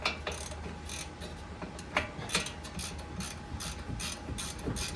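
A ratchet tightens the control arm bolt on a Chevy Silverado during a front level kit install, with repeated sharp clicking strokes in irregular bursts over a low steady background hum.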